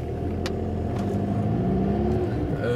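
A Volkswagen Beetle 1303 in German Look style runs with a steady, low, throaty rumble, its engine note holding fairly even and close for a few seconds with no voices.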